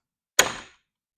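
A homemade wooden door is forced shut with a single close, solid thunk that rings out briefly and decays within a fraction of a second, alone in otherwise silent surroundings.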